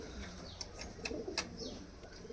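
Nazra Kalduma pigeons in a loft give soft low cooing, with a few brief sharper chirps standing out over a steady, fairly quiet background.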